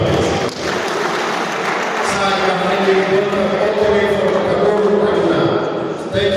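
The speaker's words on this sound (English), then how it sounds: "Please round of applause for him, please." Applause from a crowd at a community gathering honoring a council of chiefs, a steady wash of many hands clapping that holds evenly throughout, with voices mixed in underneath.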